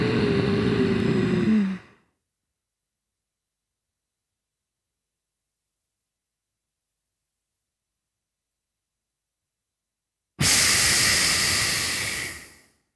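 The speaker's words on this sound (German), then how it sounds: "Als wenn wir einen Spiegel anhauchen würden, dieses Geräusch mit geschlossenem Mund beibehalten." A breathy throat hiss, ujjayi breathing with the mouth closed like fogging a mirror, sounds loud and close for about two seconds, then silence, then returns for a second long exhale that fades out.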